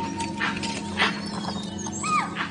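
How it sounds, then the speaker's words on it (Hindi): Wild animals in a misty forest in Kabini give sharp alarm calls, several short yelps and whines scattered over a few seconds against a steady low rumble, moderately distant. "ये अलार्म कॉल्स मुझे लेकर नहीं दी जा रही।"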